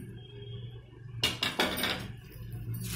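Soaked flattened rice (chuda) goes into a pan of spiced peas, landing with a sudden clattering hit and a short burst of scraping and sizzle over a steady low hum before settling back down.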